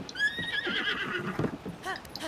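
A horse neighs in Zelda: Breath of the Wild, a loud, shaky whinny near the start followed by hoof clip-clops and a second short whinny near the end.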